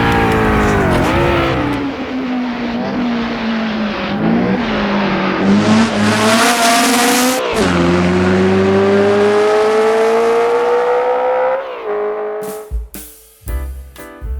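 Dino 206S sports car in the Assetto Corsa racing game, a loud, close engine revving hard and climbing through gear changes with brief drops, a short tire squeal during a drift, then sharp cutoffs near the end.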